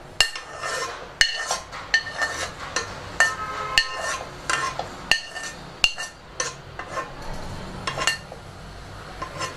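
A metal spoon scrapes and clinks against a pan as half-cooked basmati rice with vegetables for fried rice is stirred, in uneven repeated close knocks and scrapes with no talking.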